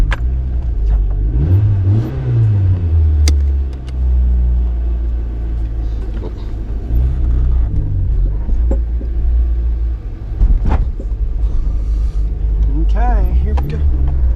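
A car engine revs through a homemade twin loop muffler, heard from inside the cabin as a deep rumbling drone with rising and falling revs, loud and close, with a voice talking over it at times.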